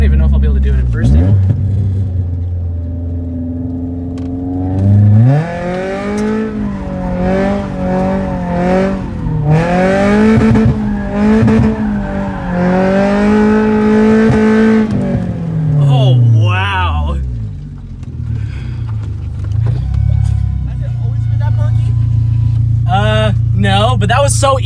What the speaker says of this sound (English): I was banging off rev limiter a little bit. You hear that? That sounded sick.